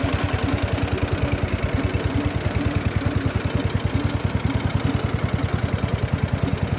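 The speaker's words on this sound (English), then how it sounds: "We got the 1450 Cub Cadet running real good." A Cub Cadet 1450 garden tractor engine runs close by with a blower attachment going, producing a steady, rapid, even thumping beat with a low rumble and no voices.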